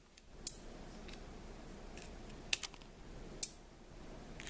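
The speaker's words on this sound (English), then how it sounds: "If you cut the edges of it so that you're getting this V" Scissors snip the end of a plastic straw into a V, making three sharp, close clicks spaced apart over a faint steady background hiss.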